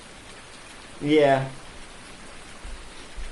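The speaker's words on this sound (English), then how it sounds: "I think this rain has totally botched us today" Steady rain falls in the video game Farming Simulator 19 as a constant soft hiss, while someone speaks briefly over it.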